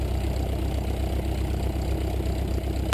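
Light aircraft engine idling after start before a flight from Kamloops to Shuswap Lake, a steady dense low rumble with even throbbing, close and continuous throughout.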